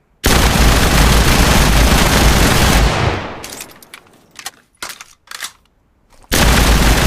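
Sustained automatic fire from a Tokyo Arsenal submachine gun, a loud unbroken burst of about three seconds that then breaks into scattered single shots and short bursts before another heavy volley starts at the end.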